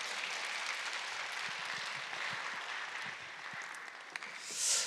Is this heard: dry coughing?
no